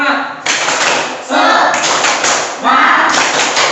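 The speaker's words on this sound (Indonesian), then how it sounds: "Tepuk semangat." A group claps together in a steady rhythm, loud and close, in several bursts of fast, even claps with short pauses between them.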